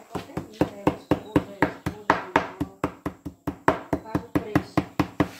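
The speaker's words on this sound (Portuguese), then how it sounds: "É como se estivesse picando a carne," Meat being pounded into a paste on a board in a countryside home kitchen: a fast, steady run of close, heavy thuds, roughly two or three strikes per second, without a break.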